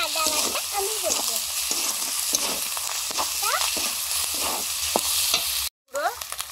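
Garlic and ginger paste fry with chopped onion, giving a loud, close, crackling sizzle with repeated stirring scrapes, a brief gap near the end and some faint voice-like sounds in the background.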